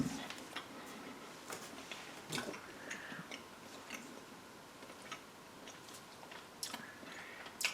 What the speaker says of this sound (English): Long silent chewing on top of my mouthful. I took too big of a bite.